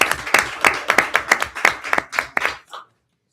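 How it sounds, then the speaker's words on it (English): A small group at a school board of trustees meeting claps briefly for the eighth grade committee, about a dozen distinct, close hand claps in a quick, uneven rhythm that stops abruptly after under three seconds. "round of applause for the 8th grade committee and our students"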